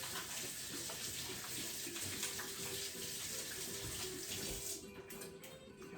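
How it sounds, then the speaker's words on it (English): Hands are washed under a running kitchen tap, a steady splashing water stream that stays loud and close for most of the time before easing off near the end. "So get your hands right in there and really give them a good wash."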